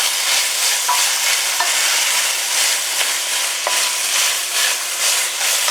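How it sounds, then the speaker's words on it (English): Onion sizzling steadily in a skillet, with occasional clicks and scrapes of a spoon stirring it, loud and close throughout and without talk. "Add our onion. Give it a good stir."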